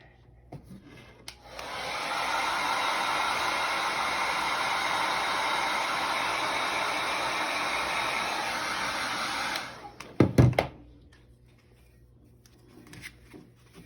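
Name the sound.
hair dryer drying a paint layer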